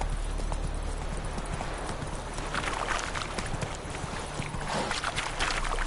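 Roach, Geralt's horse in The Witcher 3, trots at a steady pace, with dense, close hoof clops running continuously over a low ambient game background.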